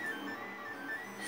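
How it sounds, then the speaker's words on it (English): A desktop 3D printer printing nine steam radiator valve handles at once gives a faint, steady mechanical whir with quiet high stepper tones, close by and without talk. "3D printer, which, as you can hear and see, is actually creating 9 of the products."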